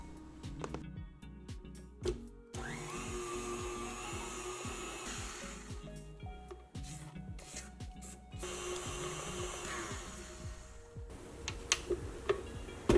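An electric mixer beats butter and liquid together at high speed for a vanilla cake batter. A steady, close motor whir runs throughout, with a rhythmic ticking rattle as the beaters knock against the bowl.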